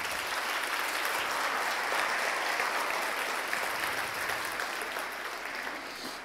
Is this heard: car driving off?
no